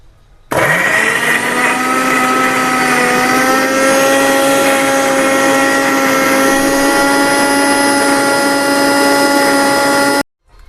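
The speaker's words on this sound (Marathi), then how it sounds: "अगोदर मी हे अद्रक कोथिंबर आणि लसण मिक्सरमध्ये काढून घेणार आहे" A kitchen mixer grinder whirs loudly and steadily for about ten seconds, grinding ginger, coriander and garlic into a paste, with a bright motor whine that starts and stops sharply.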